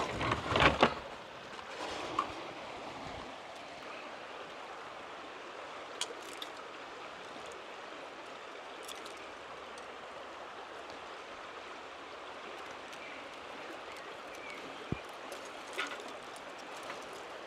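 A river stream flows with a steady, soft rushing babble on a homestead, continuous and moderately distant, with a few brief clicks and rustles from nearby handling.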